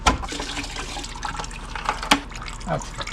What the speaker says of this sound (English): Probably gonna be a little bit of coolant that comes out of this hose.